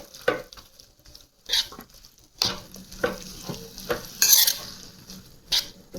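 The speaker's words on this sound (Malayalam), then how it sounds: "സുർക്ക ചേർത്ത് കൊടുത്തിട്ട് വീണ്ടും നല്ല പോലെ ഒന്ന് ഇളക്കി സെറ്റാക്കുക." Beetroot pickle with masala and vinegar stirred in a pan, intermittent close scraping strokes and light clinks of a utensil against the pan, separated by quiet gaps, over a soft sizzle.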